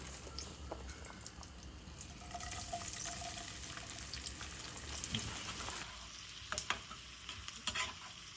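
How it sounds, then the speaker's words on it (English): Diced onion sizzling in ghee in a pan for Christmas biryani, a dense continuous hiss with stirring scrapes, a brief louder surge midway and a few clinks near the end. "then we will add the diced onion"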